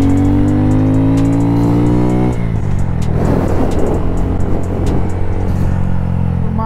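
A 2023 Honda Grom small-displacement motorcycle engine with a flashed ECU runs steadily and loudly, its pitch dropping as it shifts, then a rough, busy engine roar while riding.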